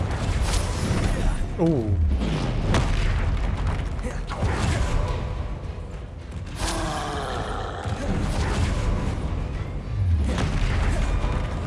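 Blasting-spell explosions in the video game Hogwarts Legacy, booming bursts and whooshing magical effects repeating over a rumbling combat backdrop, with a short vocal exclamation over it.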